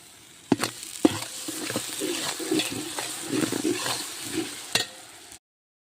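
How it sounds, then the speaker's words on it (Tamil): Ginger-garlic paste, about 150 grams, is added to a large pot for biryani cooked for a charity meal and fries with a loud, close sizzle while being stirred with scraping and clanks, then cuts to silence. "இப்போ எல்லா இஞ்சி பூண்டுமே வந்து சேர்த்துக்கலாம்"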